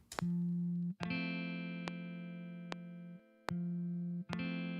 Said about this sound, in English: Some basic guitar.